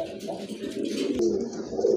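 Domestic pigeons cooing close by in a loft, a few soft low throaty coos over light background noise.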